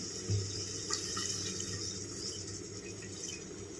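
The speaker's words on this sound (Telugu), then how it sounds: "కొంచెం వాటర్ వేసుకుందాం" Water is poured into a cooking pan of simmering gongura curry, giving a steady, close splashing and trickling wash that runs the whole few seconds with no talk.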